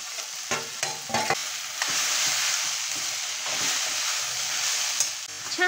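Grated raw mango drops into a hot spice tempering for murabba and sizzles steadily, with a few stirring clinks at first and then a loud continuous frying hiss close up.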